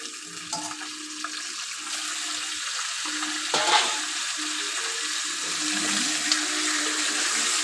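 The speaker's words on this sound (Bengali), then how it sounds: "মাংসটা একটু ভাজা ভাজা করবো" Chicken pieces frying in a pan with potatoes for chicken kosha, a steady moderate sizzle with a brief louder burst of bubbling partway through and faint stirring, no voices.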